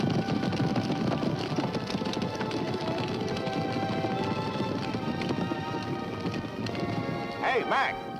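A wild horse galloping, with a steady rapid clatter of hooves under a music score and a voice speaking throughout.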